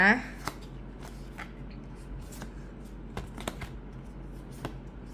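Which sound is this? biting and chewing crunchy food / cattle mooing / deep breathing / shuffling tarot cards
shuffling tarot cards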